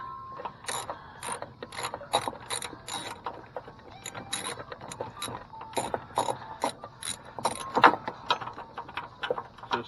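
Bolts on the radiator bracket of a 2004 Chevy Venture being undone with a ratchet, giving a run of quick, close metallic clicks in bursts with brief pauses.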